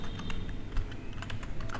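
Computer keyboard keys tapped in a steady run of light, close clicks while someone types a shell command during a MongoDB installation, with no talking over it.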